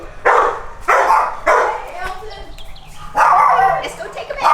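A rescued foster dog named Stevie lets out three loud, close barks in separate bursts, with a pause and quieter rustling between the second and third.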